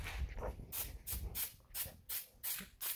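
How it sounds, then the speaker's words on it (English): Short hissing bursts of black spray paint from a can repeat in quick succession, about seven puffs in three seconds, close and fairly quiet. "I'm spraying a little black on the big planet there"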